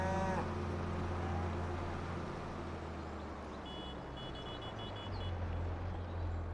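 A cow moos loudly and at length in the Farming Simulator video game, one long low bellow running through the whole stretch, with faint engine hum and a brief high beeping partway through.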